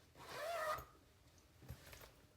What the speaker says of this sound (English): And then you're gonna zip her up.